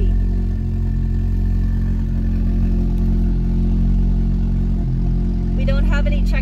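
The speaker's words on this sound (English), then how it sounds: "It's getting super loud right now. And the car is very shaky." A loud, rough car engine with its catalytic converter stolen idles with a heavy low rumble throughout; a voice speaks briefly near the end.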